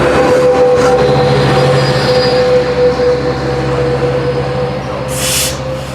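A Metrolink commuter train rumbles past at close range near Glendale station, a steady heavy roll of wheels on rails with a sustained tonal hum and a brief squeal near the end.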